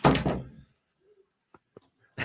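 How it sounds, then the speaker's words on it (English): A door closes with a single muffled thunk at the start, followed by near silence and a few faint small knocks before another burst of noise at the end. "the way that you could hear the door close"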